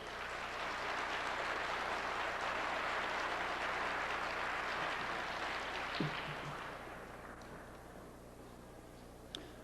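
Audience applause at a 1993 preparedness expo lecture, a sustained, fairly distant wash of clapping that holds steady for several seconds before gradually tapering off, with a few isolated claps near the end.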